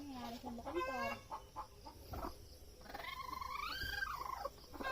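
Chickens cluck close by on a farm as a mother hen with chicks is handled, with several short clucks and calls over soft background noise.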